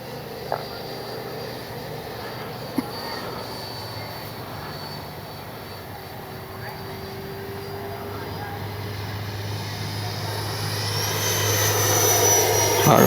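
A Freewing L-15 RC jet flies overhead with a steady distant jet-engine whine that swells louder toward the end as it approaches, with a couple of faint clicks early on.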